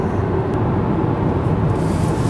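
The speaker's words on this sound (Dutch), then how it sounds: "Het enige wat je hoort is eigenlijk een heel klein beetje windruis en de afrolgeluiden van de banden." Inside a 2018 Nissan Leaf at around 80 km/h, a steady broadband hush of wind and tyres rolling on the road fills the cabin, constant and even with no voices.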